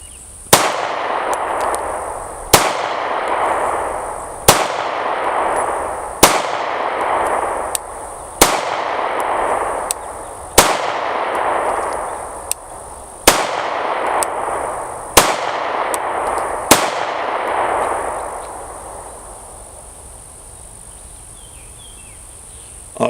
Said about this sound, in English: we're going to put a few rounds through the A1 full size